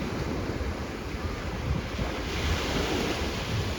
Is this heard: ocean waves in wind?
yes